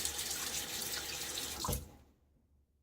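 Tap water runs steadily into a sink for a rinse during a wet shave with a Gillette razor, close and continuous for nearly two seconds before shutting off into quiet.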